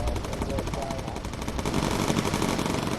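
Rapid machine-gun fire from bomber gunners firing incendiary rounds in the video game Bomber Crew, a dense continuous rattle of bursts that stays loud throughout.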